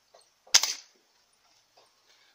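A Rossi Black Hawk 5.5 air rifle with a 75 kg gas ram fires a single sharp, loud crack that decays quickly, with faint bits of room noise before and after.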